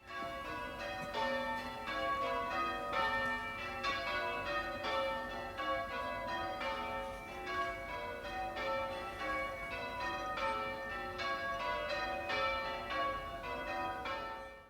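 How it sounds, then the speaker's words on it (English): Church bells in Shanklin, Isle of Wight, England, ring out continuously in a steady, overlapping peal, heard from a moderate distance with no talking. "the church bells started up, so I thought I'd make a little recording of that."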